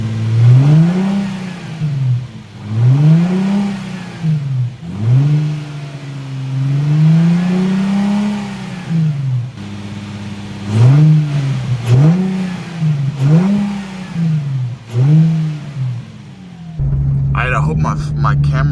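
A Nissan 350Z fitted with a cold air intake is revved repeatedly from idle, with about eight rising and falling engine swells in close succession, loud and near, then a short burst of other noise at the end.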